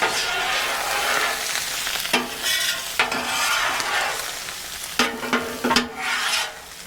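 Potato, egg and chorizo sizzling on a 30-inch Weber Slate flat top griddle while a spatula stirs and scrapes them, steady frying hiss with repeated close scraping strokes.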